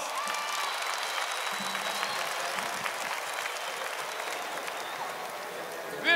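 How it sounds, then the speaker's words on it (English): Applause from a large outdoor concert crowd at Wattstax in 1972, a dense, steady roar of clapping that holds evenly throughout, slightly distant and unbroken. "give Tommy another great round of applause"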